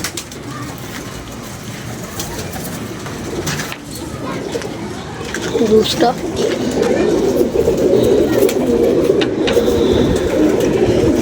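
Pigeons coo softly and repeatedly at close range, growing fuller partway through, while people talk nearby.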